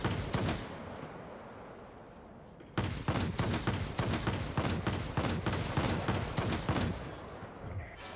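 A 20 millimeter aircraft cannon on a J7W2 fighter in a flight combat game fires rapid bursts: one long stream, a short gap, then a string of sharp, evenly spaced shots, loud and close.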